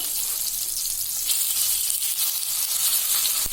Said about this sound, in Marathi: लो टू मीडियम फ्लेमवर आपण हे फ्राय करायला ठेवूया।